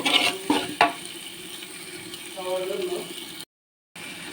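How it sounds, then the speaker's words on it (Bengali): Spice masala sautéing in a pan for duck curry, a soft sizzle with a few sharp spatula scrapes and clicks against the pan near the start, fairly close, with a gap of silence before it resumes briefly. "এই যে দেখতে আমি মশলাটা ভালো করে কষিয়ে নিচ্ছি"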